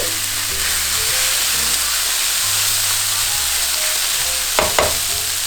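Vegan breakfast pizzas fry in a pan with a steady, loud sizzle and hiss that holds throughout, with a brief scrape or clatter near the end.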